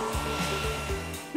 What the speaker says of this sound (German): Zum Glück habe ich einen Föhn.